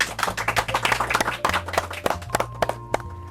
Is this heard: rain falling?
no